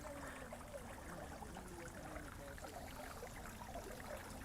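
Water trickles and splashes steadily from a water feature outside the Auckland War Memorial Museum, a soft continuous wash heard from nearby and fairly faint, with no talking.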